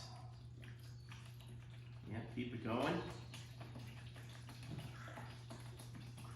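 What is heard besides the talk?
water poured into a Tupperware container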